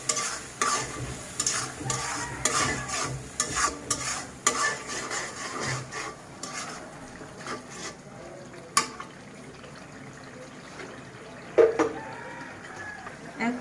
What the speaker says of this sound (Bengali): এখন আমি মশলাটা কয়েক সেকেন্ডের মতো কষিয়ে নিব।